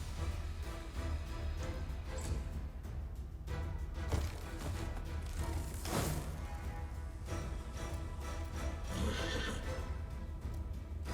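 A horse neighs and whinnies in the Pathfinder: Wrath of the Righteous video game, heard over a steady, dense bed of game sound with clip-clopping hooves and a few louder bursts.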